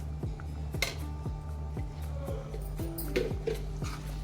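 A spoon stirs homemade masala into colocasia leaves cooking with green chillies in a pot, giving a quiet series of rhythmic metallic scrapes and clinks against the vessel.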